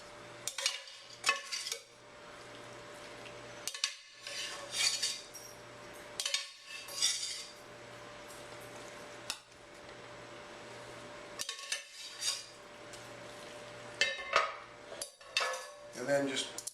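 Italian sausage meat spooned onto baked ziti in a pan, with repeated scraping and clinking of a metal spoon against the pan in short irregular bursts, separated by quiet pauses under a low steady hum.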